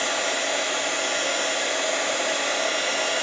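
Heat embossing tool blowing hot air for card and flower crafting, a loud, steady, close-up whooshing hiss that runs unchanged throughout with no speech.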